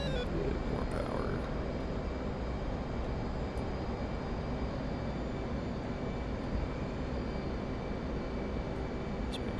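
Steady jet engine roar from an F/A-18C in the flight simulator DCS World during a carrier approach, a continuous broadband rumble and hiss held at constant level throughout.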